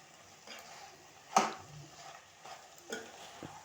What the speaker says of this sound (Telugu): ఇలా మంచిగా కలిపేసుకోవాలి